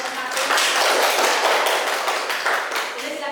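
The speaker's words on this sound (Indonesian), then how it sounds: "Boleh beri tepuk tangan untuk kelompok 1." A classroom applauding a student group after its presentation, close, dense clapping with sharp individual claps standing out, sustained across the whole stretch.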